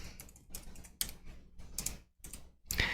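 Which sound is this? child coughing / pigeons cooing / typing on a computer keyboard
typing on a computer keyboard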